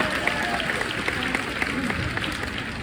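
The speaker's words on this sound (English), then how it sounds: "give yourselves a round of applause" A convention hall audience applauds, a dense wash of clapping from a large crowd that carries on for a few seconds.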